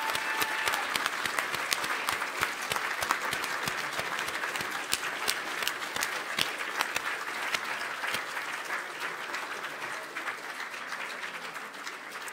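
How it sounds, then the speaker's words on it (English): A room full of people applauds at a council service excellence awards ceremony, dense steady clapping for about twelve seconds that eases slightly toward the end. "Can I ask you to give yourselves, every single one of you in the room, a huge round of applause"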